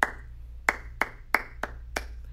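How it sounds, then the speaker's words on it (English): Hands clap out a rhythm pattern during a first-day school music lesson: six sharp, close claps in an uneven rhythm, alone over a faint low hum. "I'll clap all kinds of different rhythm patterns."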